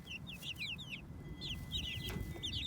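Young pullet chickens cluck and chirp in short repeated bursts, fairly faint, over low background rumble with no voices.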